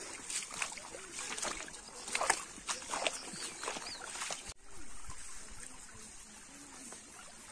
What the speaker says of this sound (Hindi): पानी का भी अपना एक म्यूजिक होता है।